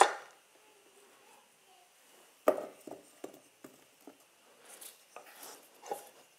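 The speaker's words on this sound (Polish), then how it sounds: "I przełożę je do garnka." Halved potatoes dropped one after another into a pot in a home kitchen, a series of soft, close knocks and thuds at uneven intervals over quiet background.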